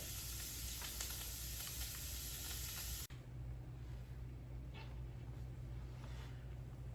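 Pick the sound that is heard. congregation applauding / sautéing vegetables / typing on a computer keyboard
sautéing vegetables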